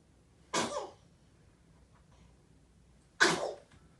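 Two sharp sneezes, close and loud, spaced about two and a half seconds apart, with quiet between them.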